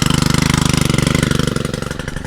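A side-by-side utility vehicle's engine running with the choke on, a steady fast loud chugging pulse that loosens and falters toward the end as if about to stall.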